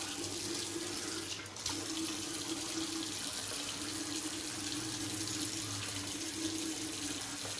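A sink tap runs steadily to wet the face before shaving, a constant close hiss of flowing water with a brief dip in flow partway through, no talking.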